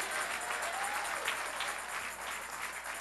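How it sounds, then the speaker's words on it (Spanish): Congregation applause at a church service, a steady, fairly faint wash of clapping throughout with a brief voice in the background. "Vamos, dale fuerte el aplauso."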